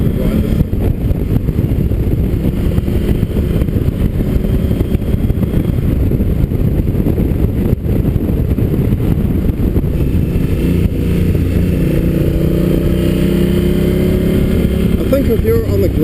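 A 2016 Honda Africa Twin motorcycle is ridden, giving a steady engine drone mixed with heavy wind buffeting that runs without a break, while a rider talks over it.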